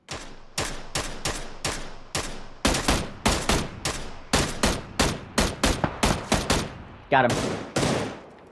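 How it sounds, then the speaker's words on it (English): Rapid bursts of gunfire in PUBG: Battlegrounds on the Vikendi map ring out as a dense, steady volley of sharp shots at close range, with a brief voice under the shooting. "Start shooting at him."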